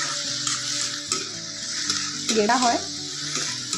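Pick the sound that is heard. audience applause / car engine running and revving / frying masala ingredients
frying masala ingredients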